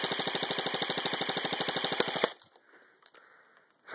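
A Scar-L rifle fires a rapid fully automatic burst of about two seconds, loud and evenly spaced shots close by, then cuts off into near silence with faint rustling.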